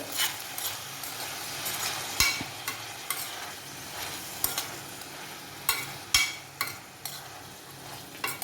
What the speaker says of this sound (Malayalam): ഇനി നമുക്ക് ഇതൊന്ന് പതിയെ ഇളക്കിയിട്ട്